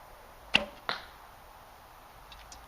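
Two arrows loosed from a Great Northern Bushbow traditional bow at about 15 yards, each a sharp, soft release thump with a brief string slap, half a second apart, followed by faint distant impacts; otherwise whisper quiet.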